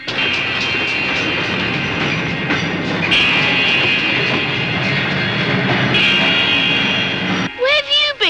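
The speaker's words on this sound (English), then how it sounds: "Trains that come out of that tunnel at night and drive back in again by themselves, nobody running them." A train rolls steadily out of a tunnel at night, a loud continuous rumble and clatter lasting several seconds, then it breaks off abruptly into a short burst of other sound.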